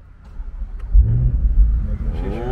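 2022 C8 Corvette convertible engine cranking to life with a deep close rumble, then a quick rev that swells and settles into a throaty idle.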